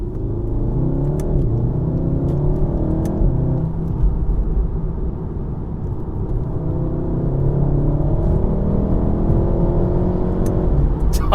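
A tuned VW Golf R 7.5 with a DSG gearbox drives and accelerates, its engine rumbling loud and close throughout as revs rise and fall with a steady, gritty growl; there is no speech.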